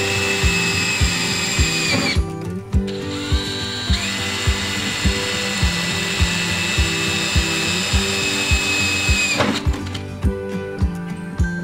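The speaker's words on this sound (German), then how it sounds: "Zunächst vorbohren." Power drill pre-drilling holes for the terminal posts of a DIY LiFePO4 camper battery, a loud steady whine broken by brief stops, with a rapid rhythmic knocking running underneath.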